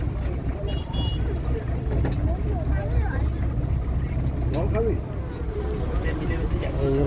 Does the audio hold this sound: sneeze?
no